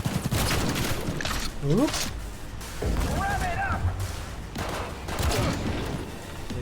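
Bursts of gunfire and booming impacts come from a Cyberpunk 2077 firefight, loud and choppy in irregular volleys, with someone briefly speaking over the action.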